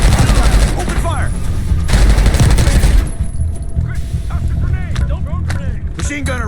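Call of Duty Black Ops 6 firefight: loud bursts of gunfire and rapid machine gun fire crackle through the first half. The firing then thins to scattered shots under shouted combat voices.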